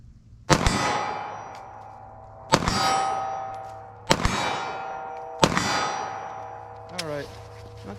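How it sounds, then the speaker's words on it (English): A 9mm pistol with a 4-inch barrel fired at a range target 25 yards away: four sharp, loud reports spaced about one and a half to two seconds apart, each trailing off in a ringing decay. "I'm going to start up with our 9mm. See how this will shoot."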